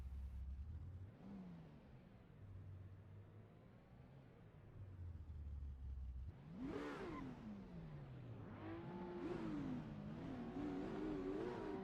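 Two drift cars, a Ferrari and a GTR, idle and then launch together from a standing start at a Tocancipa drift competition. Engines rumble low at first, then roar in as both accelerate hard, with rising revs and gear changes building loud and close.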